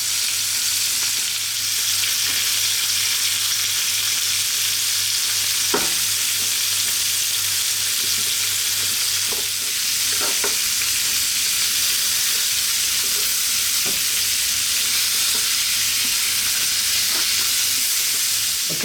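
Pork spare ribs searing in a pan give a loud, continuous, close sizzle that holds steady throughout, with a few faint clinks and taps over the hiss.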